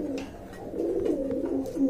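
Maxi racer pigeons cooing up close, a few soft throaty coos in a short, irregular run, quiet and alone.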